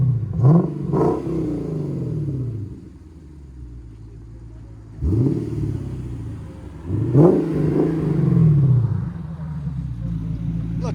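A 2023 Lexus IS 500 with a 5.0L V8, running high-flow or catless downpipes and an aftermarket exhaust, blips its throttle three times. Each rev rises into a deep roar and falls back to a rumbling idle, loud and close.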